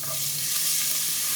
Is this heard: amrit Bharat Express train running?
no